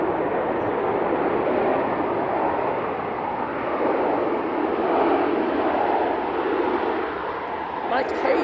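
A TUI airliner at Manchester Airport runs its engines at a derated, reduced-power setting, making a soft, steady, distant rumble that swells and eases slightly while a voice talks.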